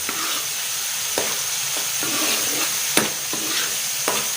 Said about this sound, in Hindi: इसको कर लेते हैं अच्छी तरह मिक्स।